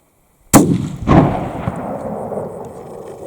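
Two sharp rifle shots crack out at a deer during a hunt in the bush at Bullock Gully, Molesworth, the first loud and close, the second about half a second later, each rolling off into a long echo.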